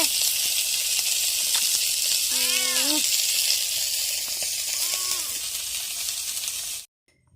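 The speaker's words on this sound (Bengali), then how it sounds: "ততক্ষণ আমার মাছটা ভাজা হচ্ছে" Fish fries in hot oil in a pan, giving a steady close sizzle that runs throughout before cutting off abruptly at the end, with faint birdlike chirps briefly audible over it.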